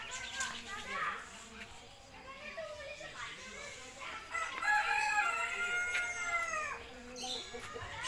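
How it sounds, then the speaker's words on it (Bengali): A rooster crows repeatedly from a house, its drawn-out calls rising over lively background voices and children's chatter, fairly close and clear. "গৃহবন্দী মোরগ পাখি"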